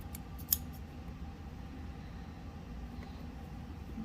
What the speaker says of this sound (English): Now we're just going to cut our threads